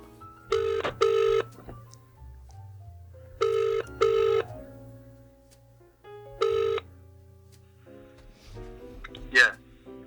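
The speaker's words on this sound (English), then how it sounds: "Should I phone Jim?" A telephone rings through the earpiece during a podcast call, three paired ring bursts spaced a few seconds apart, fairly faint, followed by a brief click as the line picks up.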